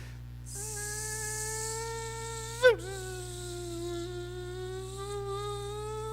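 A human voice imitates a buzzing mosquito, a thin, steady, nasal whine held for several seconds with a brief sharp wobble midway, close and clear over a low constant hum, with no words spoken.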